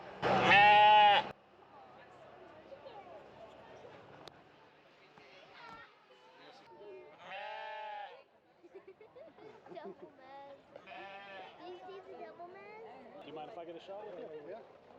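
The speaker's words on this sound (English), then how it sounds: "these fine folk who brought their early warning Sasquatch detecting goats" Goats at an outdoor Bigfoot festival in Marienville, Pennsylvania bleat loudly and close, several separate calls spread over the clip, with quieter background chatter and voices between them.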